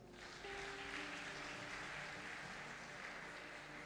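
A church congregation at a worship service claps and cheers for Jesus: dense, sustained applause that swells early and stays steady throughout.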